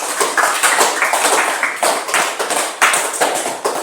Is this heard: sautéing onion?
no